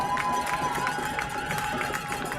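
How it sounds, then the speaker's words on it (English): Crowd noise from the stands at a high school football game, Oak Hills Highlanders at Lakota West Firebirds, a steady roar of cheering voices held at a moderate, distant level without any clear peaks. "as the crowd comes alive"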